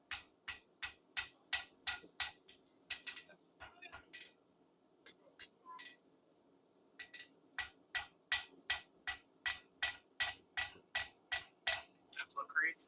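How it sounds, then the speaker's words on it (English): A blacksmith's hammer forges steel in a long series of sharp, ringing metallic strikes, mostly in quick regular bursts with a few short pauses, close and distinct with no talk. "then we can rotate the hammer to push that steel"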